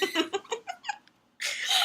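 Domestic cat meowing indoors, a run of about six short close meows in quick succession, then a brief pause before a burst of broadband noise.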